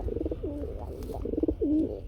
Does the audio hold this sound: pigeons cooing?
yes